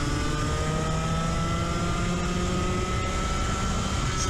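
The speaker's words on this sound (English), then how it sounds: "it's the first time we got it to rev up a little bit more." A Rotax 125 racing kart engine revs hard during practice at White River, a loud, continuous high-pitched whine with rising harmonics that holds steady throughout at close range.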